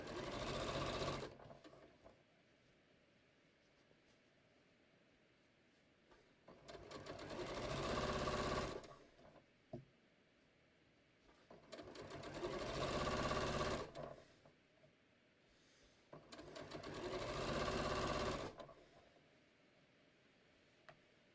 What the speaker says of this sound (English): I'm gonna stitch down this opposite long end here